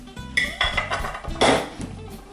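Simmered rhubarb mush is spooned into an oven-proof dish, with a series of close clinks and scrapes of a metal utensil against the dish in an uneven rhythm.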